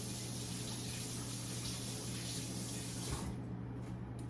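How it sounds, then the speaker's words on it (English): Tap water runs steadily into a sink as hands are washed in a home kitchen, a soft continuous rushing that cuts off near the end. "Wash my hands again."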